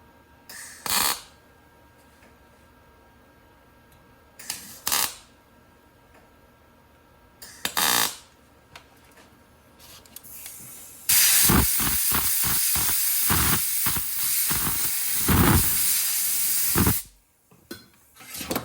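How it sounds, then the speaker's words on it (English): Welding on a car body panel being fabricated from scratch: several short hissing bursts, then a sustained harsh crackling hiss for about six seconds with rapid sputtering pulses, close and loud, no talk. "weld it up quick"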